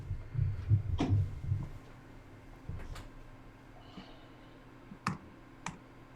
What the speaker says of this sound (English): I can hear you angry typing